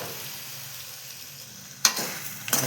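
Pasta sizzles in a hot pan with salt, a steady close frying hiss with two sharp scraping stirs near the end, no talk.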